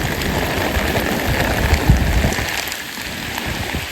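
Steady rain pours down, heard during a long highway walk, a dense continuous hiss of drops striking the ground up close with no voices.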